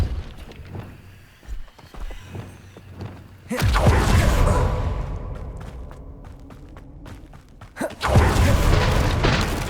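A Depulso spell is cast in Hogwarts Legacy, giving two heavy booming blasts a few seconds apart, each followed by a sustained rumbling whoosh over quieter footsteps and ambient game sounds.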